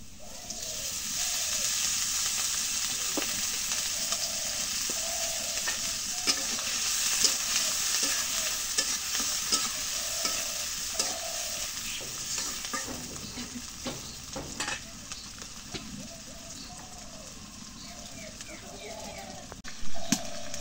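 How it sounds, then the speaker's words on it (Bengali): Oil sizzles and fries steadily in a pan with occasional stirring scrapes, a continuous close crackle throughout while a person talks over it. "এখন তেল দিয়ে দিই।"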